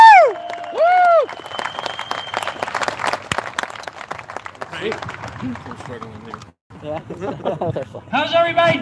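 A rally crowd at the California State Capitol applauds and cheers, dense clapping spreading steadily after a couple of loud whoops, with shouts and voices mixed in toward the end.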